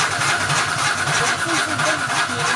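A Jaguar V6 engine is cranked over by the starter, giving a steady rhythmic churning whir that runs throughout without catching, close and fairly loud.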